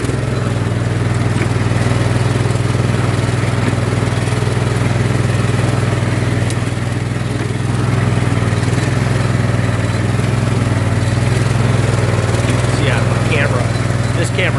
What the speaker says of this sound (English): you can hear that I have the tractor running in the background